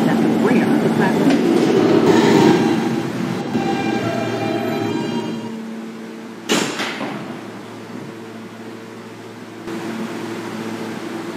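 An F Express subway train at 21st Street–Queensbridge station rumbles and hums on the platform, with tonal motor whine, a sharp clank midway, and quieter station ambience toward the end.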